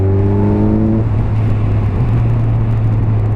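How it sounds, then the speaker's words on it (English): A 2017 Kawasaki Z1000 motorcycle engine revs hard in a steady, loud drone, pitch climbing briefly at first then holding a sustained high-rpm roar with wind noise, no talk. "this thing will just fly up through those rev range very, very quickly"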